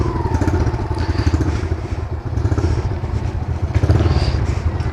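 A Kawasaki KLX 140 dirt bike engine putters and rumbles close by, loud and continuous, with a rapid pulsing idle and slight revs.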